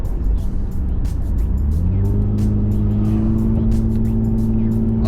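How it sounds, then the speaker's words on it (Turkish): A Mercedes S320L sedan on the road, heavy low engine rumble and tyre roar that settles into a steady tonal drone as it accelerates, with sharp clicks and knocks scattered over the close, loud noise. "Akıyor açıkçası araba bayağı iyi keyifli."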